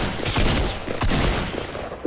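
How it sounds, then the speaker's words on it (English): Gunfire in a Fortnite battle, rapid bursts of shots in quick succession, loud and close, continuing through the short stretch with a sharp final crack. "Watch out, I'm being shot!"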